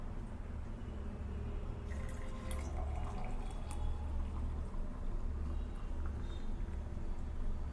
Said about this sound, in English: And we will add hot water.